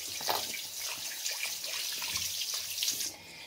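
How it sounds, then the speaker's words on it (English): Hands are rinsed under a steadily running bathroom tap, a close, continuous hiss of splashing water that stops abruptly near the end. "give my hands a bit of a wash."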